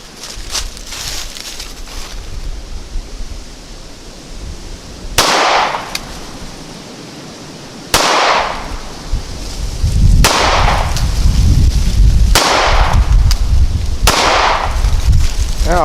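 Ruger Security 9 pistol fired at a range at CCW qualification distance: six sharp, loud gunshots spaced a second or two apart, each with a short ringing decay, over a steady outdoor background.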